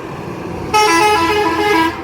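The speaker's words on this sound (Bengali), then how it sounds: "ওই যে বাস যাচ্ছে।" A bus honks as it passes along a road, a sustained harmonic horn blast of about a second over steady traffic rumble, loud and close, then fading back to road noise.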